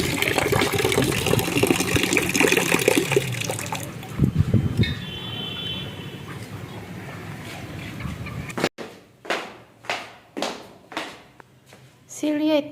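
Water fills a container at home: a strong, continuous gush of pouring and splashing with a few knocks, then a run of short, rhythmic surges of water, each fading before the next.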